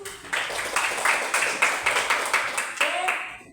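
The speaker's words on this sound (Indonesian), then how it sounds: "Oke, beri aplaus" Classroom applause from a group of students, a steady run of overlapping claps lasting a few seconds with rhythmic bursts, fairly close and moderately loud.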